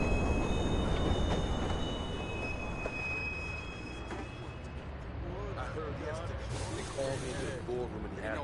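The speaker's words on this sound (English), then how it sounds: "Northbound train, arriving shortly." Northbound train arriving at a station, wheels squealing in long high whines over a steady rolling rumble, with a voice talking faintly beneath the rail noise.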